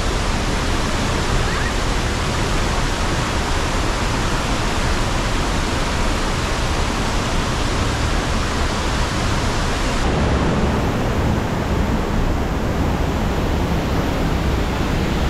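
Strong waterfall pouring into a lagoon near Dumaguete in the Philippines, loose rocks tumbling down with the flow; a steady, loud, broadband roar of falling water that continues unbroken and alone.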